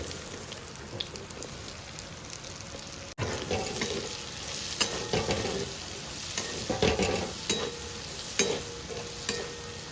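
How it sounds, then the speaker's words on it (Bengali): Chopped onion fries in hot oil in a home kitchen, with a soft crackling sizzle and repeated scraping, clinking stirs of a spatula in the pan, close and moderately loud. "পেঁয়াজটা ভাজা হচ্ছে"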